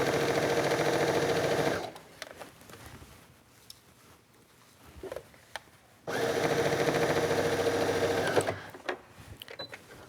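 A sewing machine stitches two pieces of sleeve fabric held taut, running in two close, steady bursts of rapid whirring separated by a quieter pause with small handling clicks.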